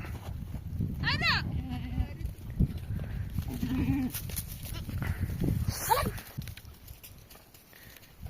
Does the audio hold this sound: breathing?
no